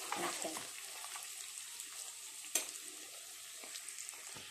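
Chicken frying in a pan sizzles softly and steadily, with occasional clattering stirs and one sharper scrape, heard close up with no talk.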